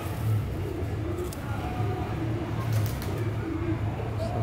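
Cheena pigeons coo in low, soft repeated calls over a murky background rumble with faint traffic noise, and people are audible nearby.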